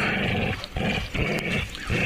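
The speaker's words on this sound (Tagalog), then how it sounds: "Parang galit na galit yung aso ko" A dog named Brownie growls angrily in short, rough bursts with brief pauses between them, close and fairly loud, alone without talk.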